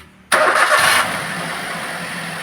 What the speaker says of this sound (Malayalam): അപ്പോൾ നമുക്ക് വണ്ടി ഒന്ന് സ്റ്റാർട്ട് ചെയ്ത് നോക്കാം.